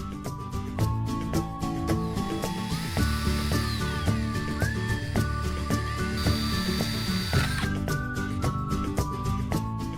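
A power drill boring watering holes into an Ytong aerated concrete block, a continuous whirring, grinding drone lasting several seconds with shifting pitch as the bit works through the block, heard close up and alone.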